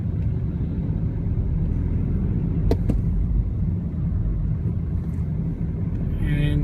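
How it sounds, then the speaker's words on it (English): A car drives along a road toward a highway exit, heard from inside as a steady low road rumble and engine drone with a couple of short clicks partway through. "So now we're driving."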